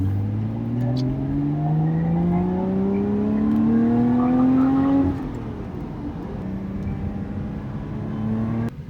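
A 2020 Lotus Evora GT with a six-speed manual accelerates from inside the cabin, the engine drone rising steadily in pitch, then dropping at a gear change before climbing again.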